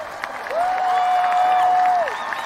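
A large commencement crowd applauds and cheers the graduating class of 2026, sustained clapping mixed with whoops and a long drawn-out cheer rising in the middle before easing off.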